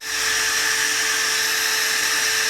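Steady high whine of a Gtools GT34+ cordless impact drill spinning freely at its low speed setting, close and constant throughout, with no talk.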